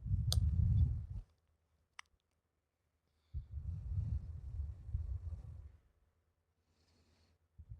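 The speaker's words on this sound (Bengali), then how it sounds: "এবার বড়াগুলো দিয়ে দিচ্ছি।" Lentil fritters (bora) made with masoor dal go into hot oil in a wok, giving two close bursts of bubbling frying noise, one brief and one longer, separated by near silence and a sharp click.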